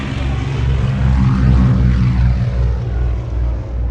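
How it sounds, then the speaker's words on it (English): A twin-engined Avro Anson flies at an evening air show at Shuttleworth. The propeller drone is loud and continuous, with a slow swell and pulsing as the aircraft passes. "this twin-engined aircraft"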